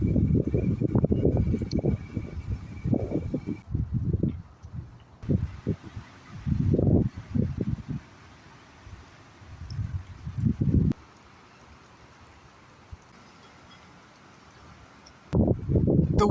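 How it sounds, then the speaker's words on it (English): Strong, gusty outdoor wind of 25 mph with gusts up to 40 mph buffets the microphone in loud, uneven bursts, separated by calmer stretches. "The wind is getting stronger."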